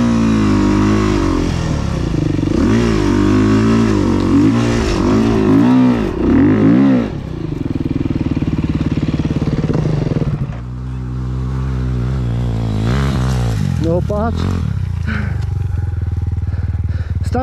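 An enduro motorcycle on a training ride revs loudly and close, its engine rising and falling in pitch with repeated throttle blips and strained accelerations, while a voice briefly speaks over it.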